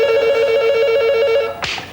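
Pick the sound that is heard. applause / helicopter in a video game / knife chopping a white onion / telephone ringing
telephone ringing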